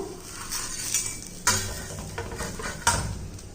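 Jowar (sola) roti flipped on a hot pan, with a few sharp clinks and scrapes of a utensil against the cookware over a faint background hiss, two distinct knocks standing out.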